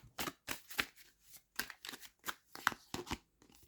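Cards are shuffled in quick, crisp riffling bursts, roughly a dozen snappy flutters close to the microphone.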